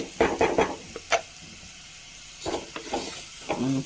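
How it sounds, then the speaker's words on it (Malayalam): Spice powders sauté in a hot pan for a simple home-cooked lunch: short bursts of sizzling and stirring clatter come in clusters, loud and close, with quiet pauses between them. "പൊടികളൊക്കെ ഒന്ന് പച്ചമണം മാറുന്ന വരെ ഒന്ന് വഴറ്റി കൊടുക്കാം"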